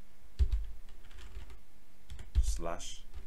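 Keys tapped on a computer keyboard while entering a date at an MS-DOS prompt: a few close clicks in two short bunches, with a voice speaking over the end.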